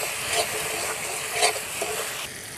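Spice masala stirred and fried in oil for duck curry, a steady close sizzle with scraping stirring strokes, no talk.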